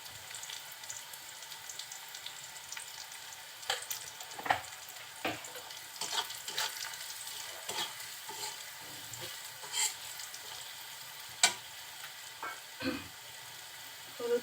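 Malabar spinach fries in a pan, giving a soft, quiet sizzle broken by scattered scrapes and clicks of stirring, several sharper knocks standing out over the low cooking hiss, with no voices.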